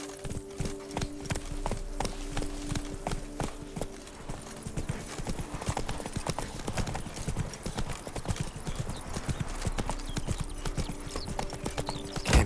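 Roach, the horse in The Witcher 3: Wild Hunt, gallops with a steady, rapid clip-clop of hooves that carries through the whole stretch at moderate volume, with game ambience underneath.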